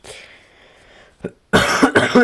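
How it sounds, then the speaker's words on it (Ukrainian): A single harsh cough bursts out close to the mic after a faint breathy moment, followed by a second short cough. "ще раз в мене кашель"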